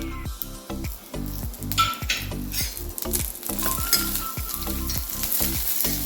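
Dried Kashmiri red chillies, cumin and urad dal roast and sizzle in a pan for a Karnataka-style tomato chutney, with a steady crackling fry broken by repeated rhythmic scrapes and clinks of stirring against the metal.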